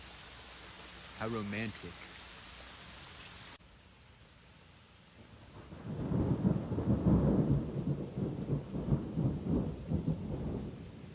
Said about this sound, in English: The sound of rain on a summer's day.